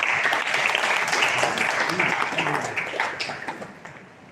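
Dense audience applause fills a college orientation hall at CPJ College in Delhi, steady and sustained before thinning into scattered individual claps near the end.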